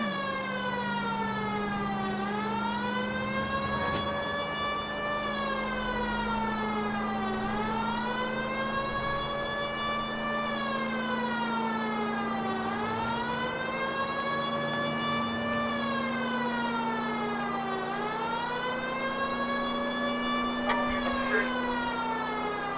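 A wailing police car siren from a vintage Ford in L.A. Noire rises and falls in long, slow sweeps over a steady engine hum, loud and continuous throughout.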